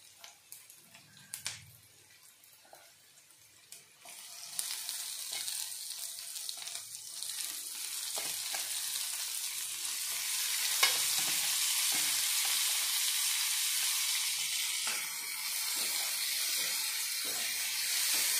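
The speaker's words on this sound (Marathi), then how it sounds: "यामध्ये मी टोमॅटो ॲड करते आता।" Tomatoes dropped into a pan of roasted onion for a Maharashtrian vangyache bharit, starting quiet with a few clinks, then a loud broad sizzle that builds and holds with faint stirring scrapes.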